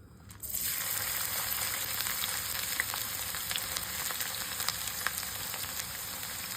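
Onion, cinnamon bark, star anise, cardamom pods and lemon slices hit a hot pan for spiced rice and sizzle steadily and loudly, a continuous close crackle with no talking.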